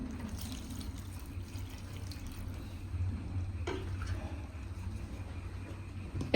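Water poured into a pan of onion and tomato for rui fish curry, a soft continuous trickling splash that stays low and close, alone without voices.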